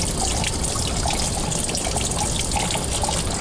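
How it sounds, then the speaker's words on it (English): Water trickles and splashes steadily as an aquarium sponge filter's intake tube is rinsed with aquarium water, a continuous close running-water sound with no talking. "I'll rinse the intake tube with aquarium water."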